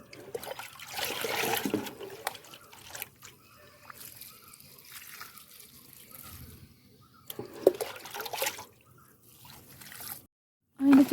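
Diluted fermented peanut-cake water is poured around the base of a garden plant, giving a soft trickling splash that comes and goes, loudest early on and fading into quieter stretches.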